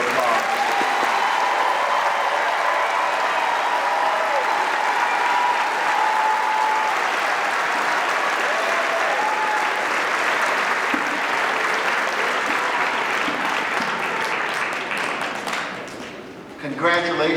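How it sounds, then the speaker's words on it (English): Graduates at a December 2018 KVCC graduation ceremony receive a long, steady round of audience applause that fills the hall, with a faint tone running beneath it, before the clapping tapers off near the end. "Let's give our graduates one more round of applause."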